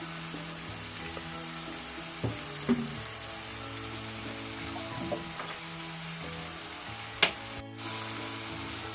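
Broiler chicken pieces with salt and sliced green chillies fry in a pan until browned for a chicken curry, a steady soft sizzle with a few isolated clacks of a spatula on the metal.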